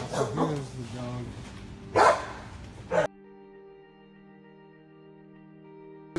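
A rescued dog barks a few times amid speech, with short sharp yelps and whimpers, before the sound cuts to a quiet tonal hum.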